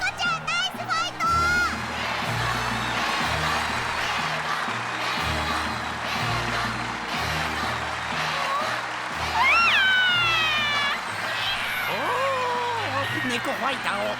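A cat character meows in the anime Future Card Buddyfight Triple D, with a few rising and falling cries that stand out over steady background music and crowd noise.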